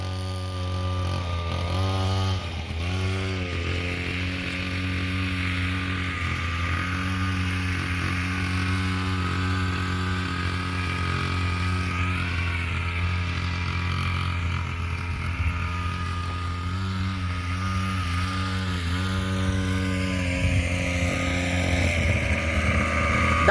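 A 49cc mini cross dirt bike engine runs steadily and loudly for the whole stretch, its small-engine buzz wavering in pitch as the throttle is worked, with no voices over it.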